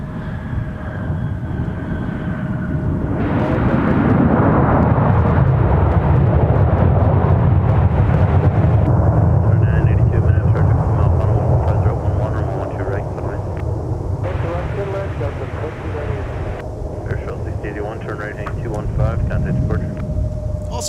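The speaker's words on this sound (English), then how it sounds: "we got a Sun Country arrival coming in on 12 right" A Sun Country airliner on arrival to runway 12 right at Minneapolis–Saint Paul gives a loud, rumbling jet roar that swells and holds, while radio voices and background talk run over it.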